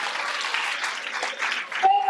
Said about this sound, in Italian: Quindi facciamo un grande applauso.